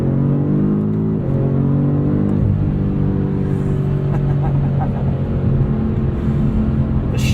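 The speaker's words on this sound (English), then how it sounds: "The shifts from this 8-speed auto are just ferocious sometimes." A 2022 BMW M5 CS pulls hard from inside the cabin, its engine roaring loudly as the 8-speed automatic snaps through quick gear changes that break the rising drone into steps.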